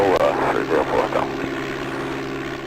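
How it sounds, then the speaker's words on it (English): A propeller aircraft takes off in the DOS game Flight Simulator 5.1, its steady engine drone loud and continuous throughout, with warbling tones over the first second. "runway 14 left at Bravo, clear for takeoff"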